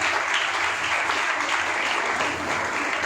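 A hall full of students and parents claps loudly for a top-ranked student at a class-ten results celebration, a thick, continuous patter of hands that holds steady and close throughout.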